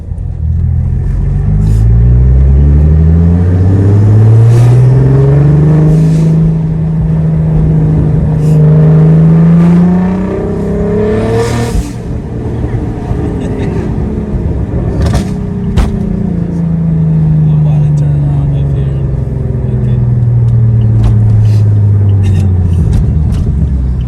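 A big-turbo 2008 Saab 9-3 Aero XWD engine roars loudly up through the revs, drops as it shifts, then climbs again, heard from inside the car with rumbling road noise.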